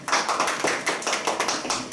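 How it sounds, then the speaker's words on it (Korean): Audience applause welcoming a guest speaker, a former intelligence official, at a conservative YouTubers' talk festival: dense, steady hand clapping from a crowd filling the whole stretch, moderately loud and close. "큰 박수로 환영해 주시기 바라겠습니다."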